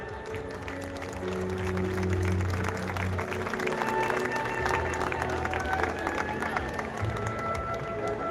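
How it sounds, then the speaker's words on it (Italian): Sustained applause from a crowd at a fashion runway show, steady and fairly loud throughout, with scattered cheers mixed into the clapping. "Un applauso a quest'artista Carol Iate"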